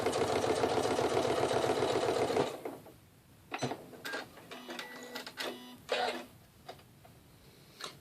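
A Janome Skyline S7 sewing machine stitches vinyl with a smooth, steady whir for a couple of seconds, then stops, leaving light clicks and handling noises close by.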